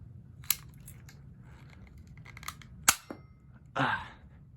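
A heavy-duty stapler fires several staples in scattered single shots, each a sharp snapping crack, close and fairly loud, the last followed by a brief scraping rattle.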